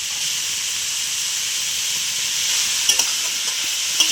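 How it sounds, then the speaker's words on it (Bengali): Capsicum and cabbage stir-frying in a hot pan for egg veg chow mein give a steady, loud, hissing sizzle, with a few light clinks near the end. "একটু ভেজে নেব।"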